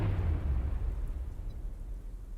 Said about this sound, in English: A brilliant explosion rocks the SS Anne and knocks you to the ground